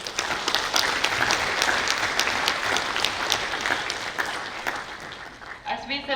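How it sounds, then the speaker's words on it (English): An indoor crowd at a National Space Day celebration in a hall gives guests and dignitaries a long round of steady applause that tapers off near the end. "give a round of applause for the guests and the dignitaries"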